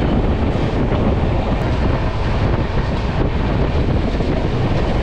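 Chozhan Superfast Express from Chennai Egmore to Kumbakonam running at speed past Meenambakkam station, a loud, continuous rumble and roar of wheels and rushing wind with no pauses.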